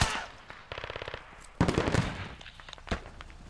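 Gunfire in the military shooter game Squad: a sharp shot, then a quick rattling burst of automatic fire, a loud echoing volley and a final close crack, with brief quieter gaps between.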